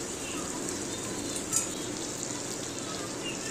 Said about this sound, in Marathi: आता तेही आपण चांगलं 2-3 मिनिटं चांगलं परतून घ्यायचं आहे